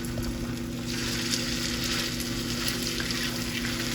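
Hot water cornbread batter sizzles steadily in hot oil in a pan, a continuous dense frying hiss with a low background hum and no talking.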